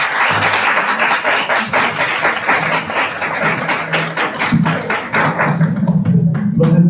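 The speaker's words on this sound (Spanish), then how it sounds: "El aplauso, por favor, para nuestros invitados." Audience applause for guests at a Spanish-language cultural event, a dense, steady wash of many hands clapping close and loud throughout, with faint voices mixed in beneath.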